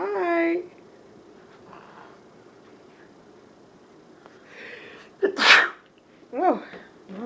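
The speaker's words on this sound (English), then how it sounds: "Oh, mommy sneezed." A woman sneezes once, a sharp close burst in the middle, with soft baby-directed talk and cooing before and after it in a quiet indoor room.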